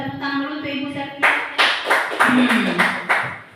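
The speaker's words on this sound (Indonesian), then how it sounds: "Mau tepuk tangan dulu untuk Ibu Satya." An audience applauds for Ibu Satya at a school teachers' session, several sharp rhythmic claps following a short stretch of talk and tone, close and fairly loud.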